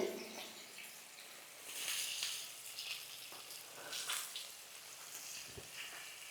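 A fish head is lowered into hot oil over a medium flame while making Bengali bata fish in mustard-poppy sauce, giving faint, crackling sizzle in irregular bursts.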